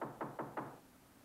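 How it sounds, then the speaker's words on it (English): Four quick knocks on a door, evenly spaced and fairly faint, followed by quiet. "There's somebody at the door."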